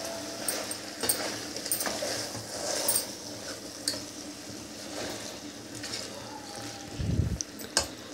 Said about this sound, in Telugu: ఇప్పుడు దీంట్లో వాటర్ పోసుకుందాం